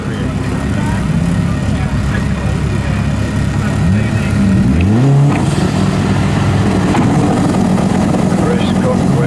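A RWD VW Golf Mk2 with a twin-turbo Audi S4 2.7L V6 and a Nissan rumble at a drag strip. One engine revs and climbs sharply in pitch mid-clip before settling back into a loud, steady drone.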